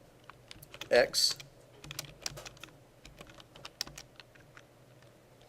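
Code being typed on a computer keyboard: scattered, rapid key clicks come and go at an uneven pace, close and fairly quiet, while a person speaks briefly.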